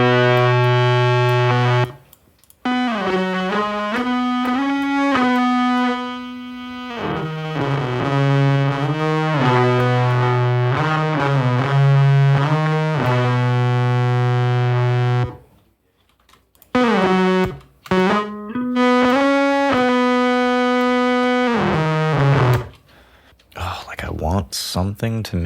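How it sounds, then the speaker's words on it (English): A distorted synth plays a buzzy, gritty melody with held notes and stepping phrases, broken by a couple of short pauses. "Let's add some distortion."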